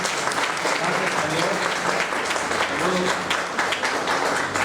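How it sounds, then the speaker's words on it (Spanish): A church congregation applauds loudly and continuously, a dense, steady wash of many hands clapping at once with voices faintly mixed underneath, close and filling the room throughout. "Denle un fuerte aplauso"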